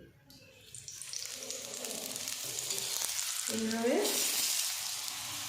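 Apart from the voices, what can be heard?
oil sizzling on an aloo paratha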